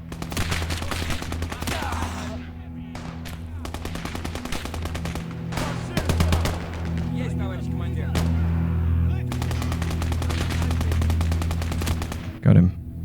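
MG34 machine gun bursts in the Gates of Hell: Ostfront video game rattle repeatedly across the scene, dense rapid gunfire interleaved with scattered single shots and battle noise, loud and close.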